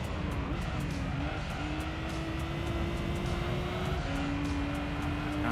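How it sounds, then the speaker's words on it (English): A Nissan RB engine in a race car in Gran Turismo 3 holds a steady, droning tone that shifts pitch a few times, with broad roaring noise underneath and no talk. "Like you can kind of vaguely make out like the RB sound of the engine."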